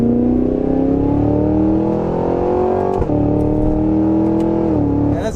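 A 2023 Cadillac Escalade-V engine droning loudly and steadily while cruising, with engine pitch rising slowly and then dipping around a shift, and faint crackles from the exhaust underneath.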